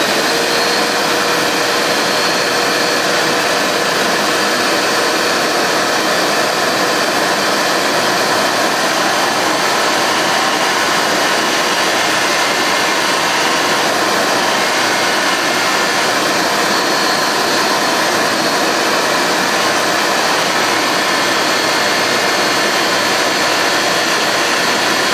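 A Palmgren 8-inch bench grinder running alongside a shop vacuum, a loud, steady whirring roar with a constant tonal hum and no breaks.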